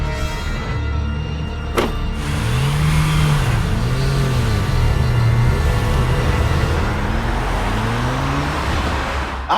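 A car engine runs loud and steady throughout, rising and falling in pitch as it revs and pulls away, with a door-like thud early on.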